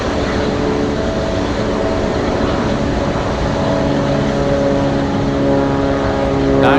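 An Air Zeta cargo plane taxis into its gate at Anchorage, its engines giving a loud, steady droning hum with sustained tonal whine that swells slightly near the end.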